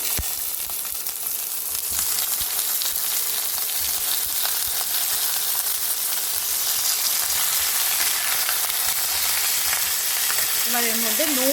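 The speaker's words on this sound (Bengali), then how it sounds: "এবার আমি আস্তে আস্তে আমগুলো অ্যাড করে দিলাম" Raw mango pieces hit hot oil with popping mustard seeds for a chutney, giving a loud, steady sizzle and crackle of frying that runs continuously throughout, with no voices.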